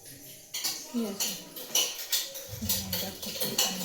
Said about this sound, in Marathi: इथे मी कोथमीर चिरडते कोथमीर चिरून आपल्या भजीच्या टाकायची